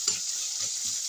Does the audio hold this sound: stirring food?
yes